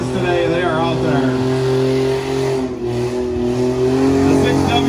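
Full-size trucks race in a heat at the Washington County Fairgrounds, their engines roaring loud and close in a sustained drone whose pitch rises and falls as they accelerate, with a brief dip midway.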